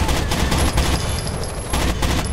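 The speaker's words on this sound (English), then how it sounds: "Well, they're shooting me, but that's okay." Rainbow Six: Vegas gunfire during co-op play, a loud, continuous barrage of overlapping rapid shots close by, filling the whole moment without pause.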